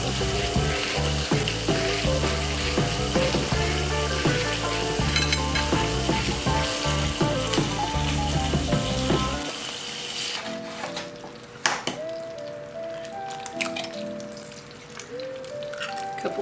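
Eggs fry in a pan with a loud, continuous crackling sizzle that drops away abruptly partway through, leaving faint clicks and light kitchen handling sounds.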